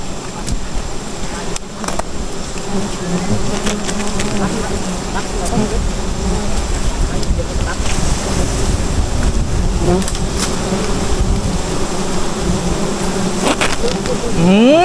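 A swarm of giant honeybees drones loud and close during a wild nest harvest, a dense continuous buzz that never lets up, with occasional voices mixed in beneath it.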